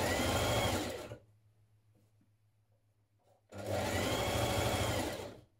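A sewing machine stitches a double fold hem on light dress fabric in two loud, steady bursts of rapid whirring, separated by a quiet pause of about two seconds with faint low hum, no voices.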